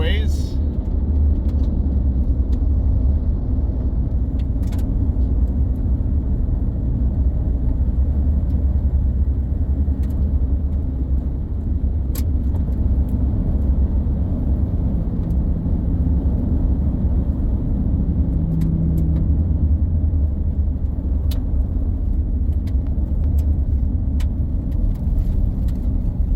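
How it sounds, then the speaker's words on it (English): A vehicle drives along a gravel road on a farm, a loud, steady low engine and tire rumble that holds throughout, with occasional faint ticks and a voice speaking over it. "Let's just burn down the gravel road here a little ways."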